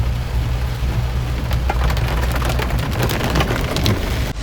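Steady rain pours down in a forest on the road toward the Aanayadikuth viewpoint, a dense continuous hiss with scattered sharper drops striking leaves and surfaces, close and enveloping with no voices.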